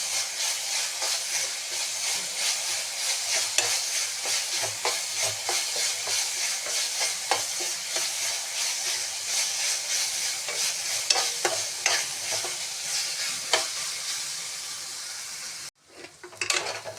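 Curry leaf paste frying in oil in a pan, a steady close hiss and sizzle with repeated scraping stirs, cutting off abruptly near the end.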